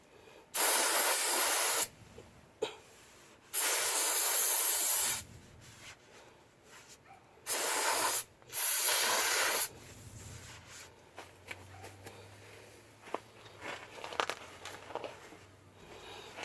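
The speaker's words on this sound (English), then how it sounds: "Let me go get a brake cleaner." Several loud hissing bursts of brake cleaner aerosol spray on a Toyota Tundra axle, one to two seconds each, separated by quiet pauses, then softer handling noises.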